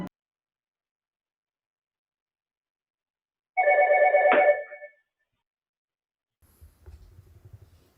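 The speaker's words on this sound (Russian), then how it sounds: "Вскоре в доме раздается звонок телефона" Telephone ringing in a house, a single short electronic ring burst lasting about a second in otherwise near silence, followed by faint low rumbling.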